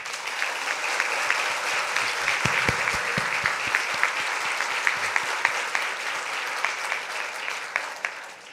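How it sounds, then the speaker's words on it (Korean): An audience of Korean diaspora members at a Korea–Russia friendship night attended by the South Korean president breaks into big, continuous applause, thick steady clapping with sharper individual claps standing out, and no speech over it. "여러분 다 함께 예, 큰 박수 부탁드립니다"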